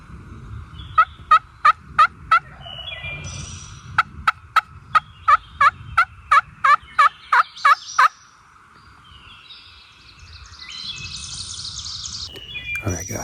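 Wild turkeys on Ohio public land in the spring: a tom's loud, close gobbles burst out in rapid repeated volleys, while hens call softly from a wooded bottom. The gobbling stops abruptly, leaving quieter hen yelps and ambient birdsong.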